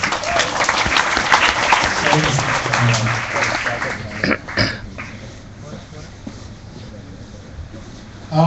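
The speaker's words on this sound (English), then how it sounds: "A round of applause" A crowd applauds, a dense burst of clapping that fades after a few seconds, with voices and cheering mixed in.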